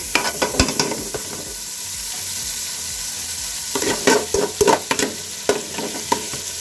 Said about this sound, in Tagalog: Tamang gisa-gisa lang.